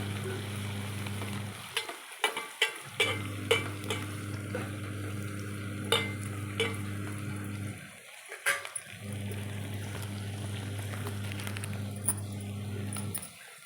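Onions frying in a pan for mutton curry, a loud, steady close-up sizzle broken by bursts of spoon scraping and stirring, with two brief pauses where the sizzle drops out; no one speaks.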